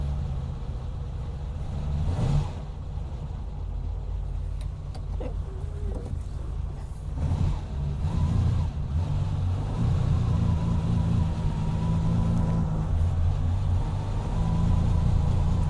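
A red Lusso car idles on a cold day after sitting on a truck, with a low engine rumble running steadily close by and rising slightly toward the end along with a few small mechanical clicks.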